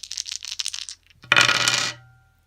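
Three dice rattle across a tabletop during a board game, a burst of hard clattering that settles and fades after about half a second, following a stretch of lighter shaking clicks.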